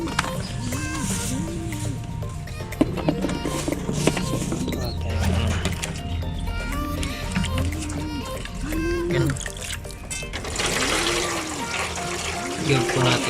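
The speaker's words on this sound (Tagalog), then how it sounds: "Lagyan po natin ng tubig." Water poured into a basin for bathing pigeons, running steadily throughout with splashing, while people talk over it.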